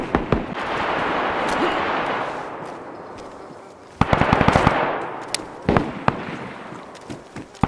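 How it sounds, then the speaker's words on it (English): Rifle gunfire in DayZ on a PvP server: rapid bursts of sharp shots, one fast string of rounds in the middle, then scattered single cracks, loud and close over a noisy background. "I shot him like a half a clip"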